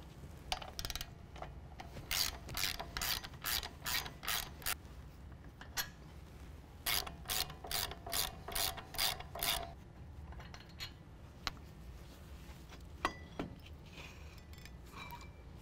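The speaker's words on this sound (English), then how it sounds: "Now we're going to use an 18 millimeter to remove the brake caliper." An 18 mm ratchet removes brake caliper bolts on a 2014-2017 Chevy GMC 1500 4WD truck, giving two bursts of rapid clicking pawl strokes close by, followed by scattered metallic clinks and scrapes.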